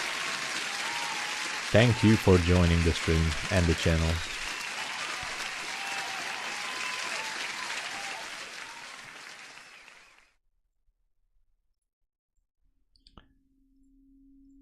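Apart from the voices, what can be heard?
applause sound effect played for a subscriber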